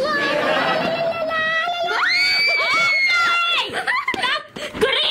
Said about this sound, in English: Stop screaming, girly girl.